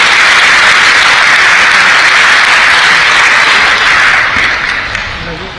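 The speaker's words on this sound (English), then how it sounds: "Huge round of applause, ladies and gentlemen" At a hotel industry convention in Goa, a large audience breaks into loud, sustained applause to welcome the Chief Minister. The clapping holds steady and then tapers off near the end.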